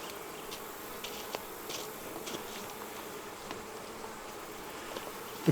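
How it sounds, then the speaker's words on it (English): Honeybees buzz in a steady, dense drone around a hive just moved in a fall bee yard, close and continuous with small flyby swells and no talking. "I mean, they've got bees in it."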